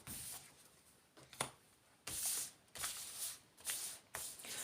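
Tarot cards are shuffled by hand during a reading, in repeated riffling bursts, some longer and some short, close and fairly soft.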